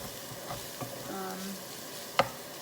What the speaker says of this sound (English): so this is cooking. Yay! So it's still on medium heat